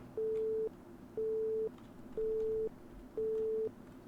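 Phone ringing unanswered in the video game No Customers Left, four evenly spaced electronic tones repeating about once a second over a faint background hum.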